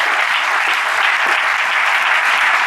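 A church congregation at a thanksgiving service applauds, a loud, dense and unbroken wash of hand clapping from many people that stays even from start to finish.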